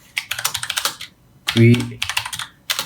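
Typing on a Tecware Phantom L mechanical gaming keyboard with brown switches, quick close clacking keystrokes in bursts separated by short pauses, with a person speaking briefly in between.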